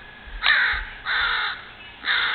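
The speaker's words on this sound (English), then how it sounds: "There's the bird right there." Three loud caws from a crow close by, evenly spaced about a second apart, in an outdoor spot near a squirrel on a tree, with no talking.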